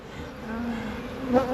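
Bees buzz close by in a steady hum, with one passing louder near the end, no talk.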